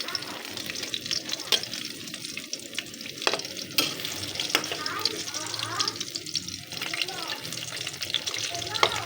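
Bananas fry in hot oil for a snack, with a steady close sizzle and occasional stirring clatter, while a person speaks softly over the cooking.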